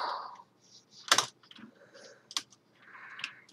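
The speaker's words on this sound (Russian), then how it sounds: "Клавиатура просто очень громкая." Loud clacking of a computer keyboard during play of a PC strategy game, with scattered bursts and single key strikes spread unevenly, close and fairly loud, with no voices.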